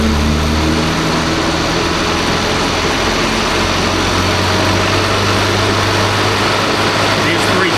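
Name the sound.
998cc Mini engine revving up through RPM range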